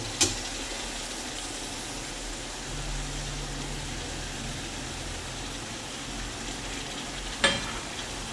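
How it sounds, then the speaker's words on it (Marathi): Small dried shrimp (sukat, also called javla) fry in hot oil, a steady close sizzle with soft scraping of a spoon stirring through, and two sharp clinks of utensil on pan near the start and end. "आता आपण जे झिंगे घेतलेले आहे बारीक सुकट ती घ्यायची आहे आणि ती पण तेलातच परतवून घ्यायची आहे"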